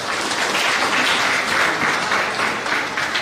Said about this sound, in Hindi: इनका तालियों से स्वागत है